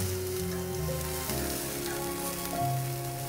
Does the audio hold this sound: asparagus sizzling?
yes